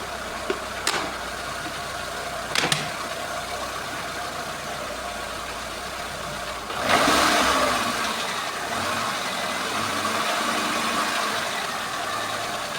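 A Renault Logan engine idles steadily at moderate level while it warms up after the cabin heater is removed, with two sharp knocks early on and a brief rise in revs near the middle.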